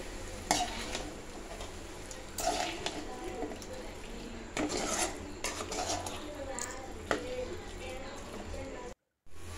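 A spoon scrapes and stirs Chettinad soya masala mixed with ground coconut in a sizzling pan. The stirring comes as repeated close scraping strokes over a soft frying sizzle, with faint talk in the background.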